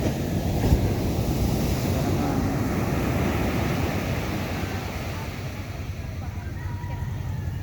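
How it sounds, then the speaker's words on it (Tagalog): Ocean waves roll and surge near a boat at sea, a loud, steady wash of surf mixed with wind buffeting the microphone, and voices talking faintly underneath. "Oh, lalaki na naman ang sunod na alon."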